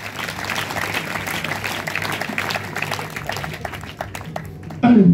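Congregation clapping and cheering at a Christmas church seminar in Koneflã, a dense sustained applause under a preacher's voice, ending with a loud shout.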